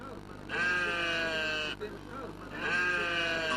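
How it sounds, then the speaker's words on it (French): Sheep bleat in long, wavering calls at a crowded livestock market in Mopti, Mali, ahead of the Tabaski festival. Two loud, close cries overlap with a steady din of animals and background noise. "tout le monde s'active à la recherche du précieux mouton de sacrifice"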